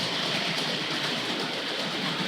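A Hornby Dublo West Country class model locomotive, 'Dorchester', runs on a model railway track, giving a continuous even whirring rattle of small wheels and motor, close and steady.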